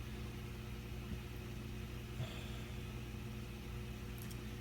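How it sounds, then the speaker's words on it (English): Alienware desktop computer fan whirring as a low, faint, steady hum in the background throughout, with no talking. "If you guys hear the fan noise in the background, that's my Alienware."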